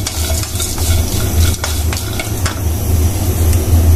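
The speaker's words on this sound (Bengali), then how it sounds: "চুলায় আমি ভেজে নিতেছি। এভাবে আমি সব মশলাগুলো আমি ভেজে নেব।" Whole garam masala spices such as cinnamon bark, bay leaves, chillies, peppercorns and cloves being dry roasted in a pan on the stove, giving a steady scraping stir with faint dry rustles and a low constant hum underneath.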